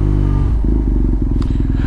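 BMW R nineT motorcycle engine switched off and back on: a low, throbbing idle cuts out briefly, then cranks and catches again into a rapid, close, loud putter, with a short metallic click in between.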